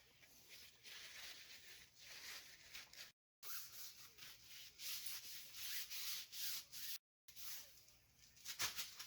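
A Gojo grease-cleaning rag is rubbed over bike parts on a 1979 Schwinn Traveler, a soft, close scrubbing and rubbing in uneven strokes with brief pauses, fairly quiet and without talk.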